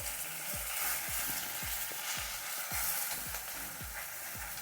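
Malabar spinach dropped into a hot frying pan sizzles steadily throughout, with a soft rhythmic series of low thumps or stirs about every half second over the continuous frying hiss, close and moderately loud.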